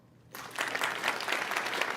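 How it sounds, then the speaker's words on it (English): Audience applause at a theater gathering, a dense crowd clapping that starts abruptly after a quiet moment and holds steady at moderate level. "Give him a round of applause"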